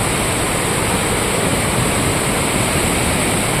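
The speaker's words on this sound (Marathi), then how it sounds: "इकडे तुम्ही पर्यामध्ये जाम पाणी आलेलं आहे" A flooded stream beside paddy fields in Konkan, rushing loudly after rain as a constant, dense roar of water that fills the whole clip, close and unbroken, with no talking.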